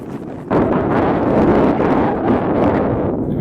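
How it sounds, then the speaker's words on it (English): Strong outdoor wind buffets the microphone in a steady, loud roar that swells suddenly and stays up with low rumbling gusts, no voices present. "It'd be nice out if it wasn't for the wind."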